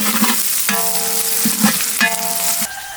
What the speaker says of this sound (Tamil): வெங்காயம் பச்சை மிளகாலாம் நல்லா எண்ணெயில வதங்கிடுச்சு.